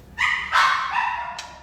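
A female German Shepherd at an animal shelter barks three times, two sharp close barks in quick succession and a third after a short pause, loud against a quiet background.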